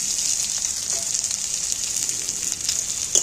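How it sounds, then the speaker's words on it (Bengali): Onions frying in hot oil make a loud, continuous bright sizzle up close, with a few sharper spits and crackles near the end and no voices. "এইবার আমি পেঁয়াজগুলো তেলের মধ্যে তুলে দিচ্ছি"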